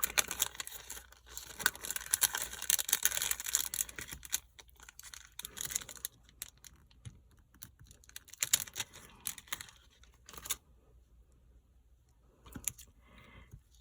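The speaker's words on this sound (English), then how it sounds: "Pardon the crinkling." Plastic packaging of craft gems being crinkled and torn open up close, loud rustling bursts early that thin into scattered crackles and brief handling noises.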